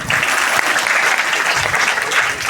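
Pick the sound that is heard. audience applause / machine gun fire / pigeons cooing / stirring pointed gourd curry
audience applause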